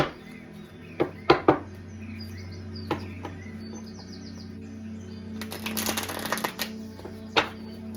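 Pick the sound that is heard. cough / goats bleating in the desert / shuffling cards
shuffling cards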